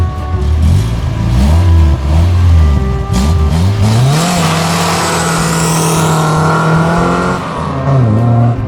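Nissan 240SX with a rebuilt KA24E engine doing a burnout, its loud engine holding high revs and rising and falling in pitch, with tire roar and squeal throughout, close by and continuous.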